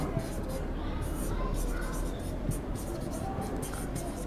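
Handwriting while a math exercise is solved, soft continuous scratching of pen on paper close up, with a quiet voice talking over it.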